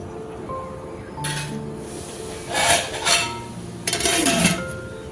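A pot lid is set over a pot of mutton curry simmering in a regular cooking pot, giving a few short metallic clinks and scrapes of metal on metal, close and fairly loud, with no talk.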